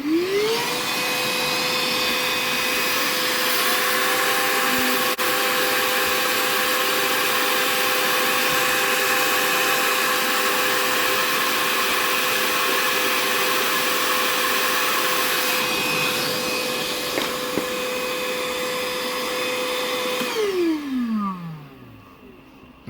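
A Kärcher WV 50 handheld window vacuum cleaner runs with a steady, loud electric whine for about twenty seconds, then winds down as it switches off near the end, and no one speaks.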